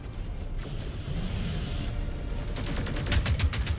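Artillery and weapons fire in the mech combat game Mechwarrior 5: Clans, a dense continuous barrage of rapid blasts and rumbling booms that grows louder and sharper toward the end, with no voices.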